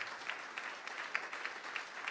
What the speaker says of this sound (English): Please, just another round of applause for Per Scholas and all the investment